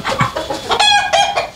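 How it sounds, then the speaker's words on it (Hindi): Java breed rooster from a Java chicken pair clucking at close range, a run of repeated harmonic clucks and short calls with no talk over them. "अब जो है वो हमारे पास एक मुर्गा है जावा पंजाब का, वो मैं आपको दिखाता हूँ।"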